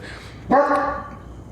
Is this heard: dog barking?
yes